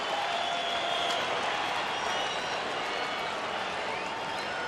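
Steady crowd buzz in Colorado's baseball stadium during a Milwaukee at Colorado game with two strikes on the batter, a dense, continuous roar with faint whistles and shouts throughout.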